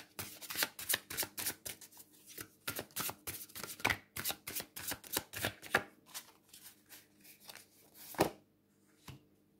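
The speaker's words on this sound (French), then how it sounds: "C'est un peu galère à mélanger." A deck of tarot or oracle cards is shuffled by hand in quick, repeated papery riffles and flicks, a dense run of bursts that thins out toward the end, close and fairly quiet.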